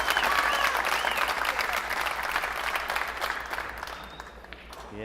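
Crowd applauding at a pool match in the 2022 Predator World 8-Ball Championship, a dense burst of clapping that gradually fades over several seconds, with faint voices underneath.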